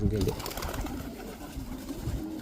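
Pigeons cooing inside a pigeon loft housing Łomża mourning pigeons, soft low coos close by with someone speaking over them.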